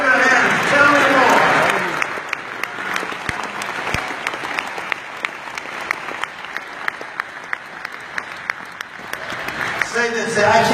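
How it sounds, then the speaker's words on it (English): An audience at a financial group rally claps in a rhythmic, evenly spaced beat, with loud crowd voices and talk at the start and end. "Somebody clap your hands."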